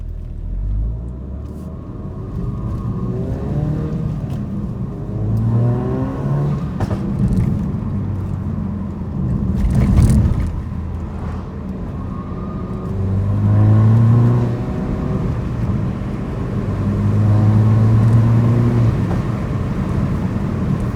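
A Ford Focus RS with a new tune drives along, its engine rumbling steadily with rising and falling revs as it accelerates, loud and close throughout with no talking.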